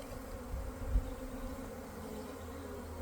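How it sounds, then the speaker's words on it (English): A low, continuous buzzing of many honeybees knocked out of a nucleus box, a steady droning hum with a soft thump near the start. "And there most of the bees came out."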